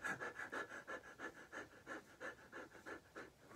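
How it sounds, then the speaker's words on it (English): Rapid, rhythmic panting breaths in Kundalini yoga dragon breath, like a panting puppy with tongue out, about four quick exhales per second, close and quiet. "Kundalini Yoga has something called dragon breath, which is like a panting little puppy where you put out your tongue"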